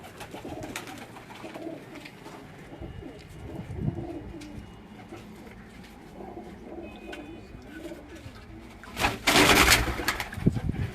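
Girebaaz pigeons of the patti type in a rooftop cage coo and rustle close by amid steady background noise, and a burst of louder flapping or movement comes near the end.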